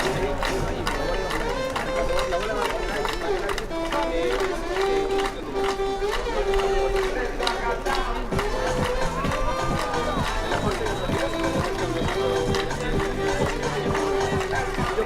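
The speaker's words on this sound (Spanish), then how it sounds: "Esas palmas ahí, que bien." Spectators in the stands at a beach handball final clap rhythmically alongside loud crowd noise and music, with the clapping growing sharper and more regular in the second half.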